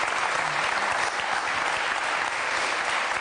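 A studio audience on an Italian television talk show breaks into loud, steady applause, dense clapping sustained throughout with no voices rising above it.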